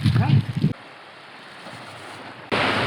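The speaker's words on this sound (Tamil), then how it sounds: "இதுதான் எங்க கடற்கரை." Sea waves and wind on a beach, a steady rushing wash with a louder gust of surf at the start and again at the end, heard alone.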